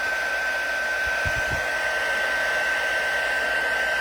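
Steady, loud whooshing roar of a heat tool blowing hot air to melt embossing powder for a watercolor emboss-resist craft project, running continuously throughout, with a few faint low thumps near the start.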